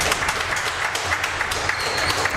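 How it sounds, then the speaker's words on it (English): An audience applauds a player introduction at a live WPH Portland event, with steady, moderately loud clapping from a crowd that carries on without pause. "Wow, bigger round of applause for Luis than Martin."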